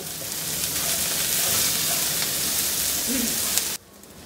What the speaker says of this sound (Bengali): ওগুলো আমি এর সাথে দিয়ে ভেজে নিব